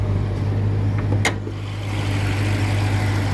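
A 2018 Jeep Grand Cherokee Trackhawk with a 6.4-liter supercharged Hellcat Hemi V8 idles steadily nearby, a constant low rumble with a brief higher whine partway through and no talking.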